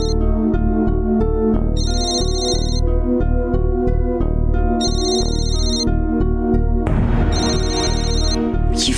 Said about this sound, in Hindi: ये फोन तो लगातार बज रहा